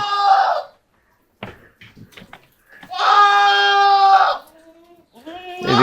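Goats returning home bleat in loud, close, drawn-out cries, two long calls with a third starting, separated by brief rustles and thumps.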